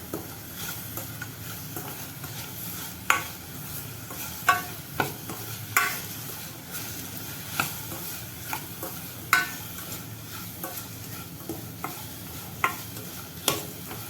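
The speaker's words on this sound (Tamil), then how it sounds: "வெல்லம் கரையிற வரைக்கும் இப்படியே வதக்குவோம்" Powdered jaggery is stirred and sautéed in a pan, giving a steady frying sizzle broken by occasional scraping knocks of the spoon against the pan, with no voices.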